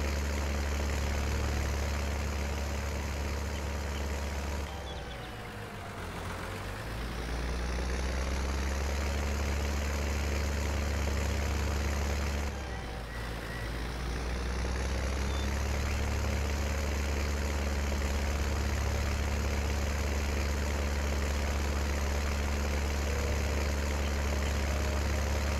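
A small tractor engine in Farming Simulator 19 runs steadily with a deep, loud drone, dipping twice in pitch and level as it labors while pulling a trailer during yard work, with no talk over it.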